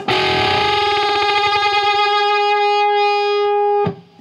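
Guitar played through a Buffalo FX germanium fuzz pedal sustains a loud, distorted chord whose beating wobbles quickly at first and then slows as the notes ring out, before a short cutoff at the end.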